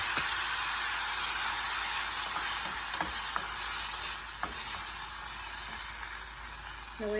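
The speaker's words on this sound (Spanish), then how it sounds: "ponemos aceite en la cazuelita" Chopped tomatoes fry in oil in a small pot with a steady, bright sizzle, broken by a few light stirring clicks and scrapes, close up and without talk.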